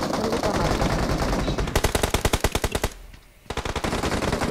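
Gunfire in the BGMI battle-royale game: loud, dense rapid-fire bursts, first a fast roll, then spaced heavy shots, a brief lull, and another rapid volley, all close and dominating.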